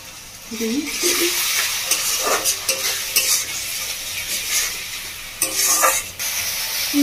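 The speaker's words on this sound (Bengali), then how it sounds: "আদা রসুনটা ভালো করে ভেজে নিয়েছি" Ginger garlic paste sizzles and fries in a pan with stirring scrapes, steady and close, with no talking.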